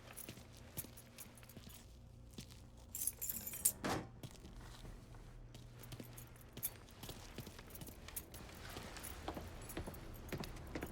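Keys jangle in a Mafia III game scene, a light metallic rattle at moderate level over a low ambient hum, with brief sharper clinks mid-clip and no talking.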